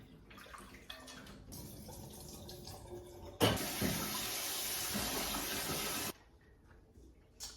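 Goat meat is washed under a running kitchen tap, with a softer trickle of water followed by a louder, steady gush for a few seconds that then cuts off abruptly.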